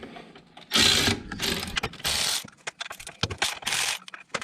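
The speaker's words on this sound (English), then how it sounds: "You gotta take the brake caliper off." A wrench works the 15 mm brake caliper bolt on a Can-Am Outlander ATV, giving close, loud bursts of rapid ratcheting clicks in several short runs with brief gaps.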